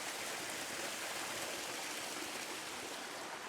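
Water rushes steadily through a culvert on a Portuguese homestead, a continuous broadband flowing roar with no pauses and no voices.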